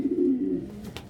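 A pet pigeon gives a single short, low, throaty coo close by, fading into a brief rustle.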